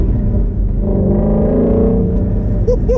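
A Shelby GT350 engine rumbles steadily from inside the cabin on a first drive in Las Vegas, a continuous low growl held for the full stretch with no talk.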